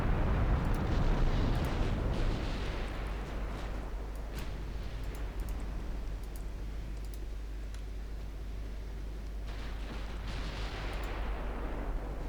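Naval guns firing in the warship game Ultimate Admiral Dreadnoughts, an Italian fleet battle set in 1920, heard as a low, continuous rumble with faint, distant-sounding booms and sharp clicks throughout.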